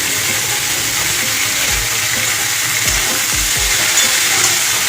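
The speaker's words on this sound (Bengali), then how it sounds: "এটাকে একটু লাল লাল করে ভেজে নেব।" Cauliflower frying in hot oil with salt and turmeric, a steady bright sizzle throughout, broken by a few low knocks from a spatula against the pan.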